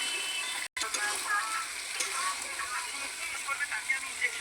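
Chicken pieces fry with spices in a pan for chicken kosha and are stirred, giving a continuous sizzle with faint scraping, and a brief dropout near the start.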